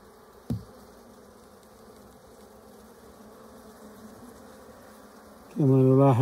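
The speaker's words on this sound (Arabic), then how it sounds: "كما نلاحظ حركة النحل سريعة، وهذا غالبا لفقد الملكة" Honey bees on a hive frame, restless and fast-moving after apparent loss of their queen, make a steady low buzz with one sharp tap early on, then a louder, closer burst of droning buzz at the end.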